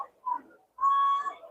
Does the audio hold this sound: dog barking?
no